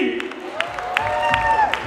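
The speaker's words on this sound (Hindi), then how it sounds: "I want each one of you to clap hard, जोरदार तालियां." Crowd applause at a sangeet night in Dubai, a busy clatter of claps and cheers under a loud amplified voice and music, with occasional sharp hand claps standing out.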